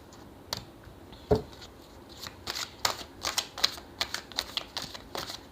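Tarot cards slipping out of a shuffled deck all at once in a quiet room, a sharp slap followed by a run of quick, close papery flicks and clicks.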